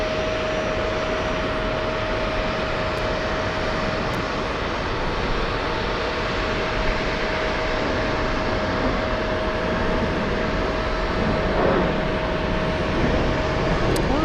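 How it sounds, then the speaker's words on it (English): A plane at JFK airport, watched from the TWA Hotel, gives a loud, steady roar with a rumbling, train-like quality and a sustained whine on top, holding level for the whole stretch with no talking. "It's the plane that sounds like a train for some reason"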